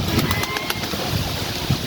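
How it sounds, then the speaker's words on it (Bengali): Pigeons cooing, including a newly acquired bird, in a home loft where someone handles them; steady murmuring coos run throughout at close range against a busy background. "দেখুন এই কবুতরকে"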